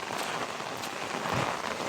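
Heavy monsoon rain in the Konkan countryside pours steadily onto surfaces, a dense, even hiss with no pauses, close and fairly loud throughout.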